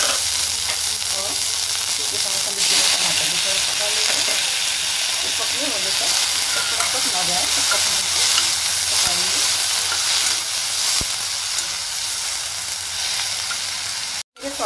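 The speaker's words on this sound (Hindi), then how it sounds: "गर्म हो गया है तो इसमें हम थोड़ा स्प्रिंग ओनियन को पकाएंगे" Spring onions sizzle and crackle in a hot pan, a loud continuous hiss with small pops, ending in a sudden brief drop.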